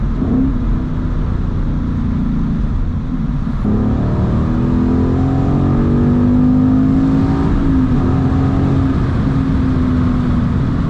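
A manual Ford Mustang GT engine revs loud and close, its pitch climbing, dropping briefly at a gear change, then rising again as it keeps accelerating.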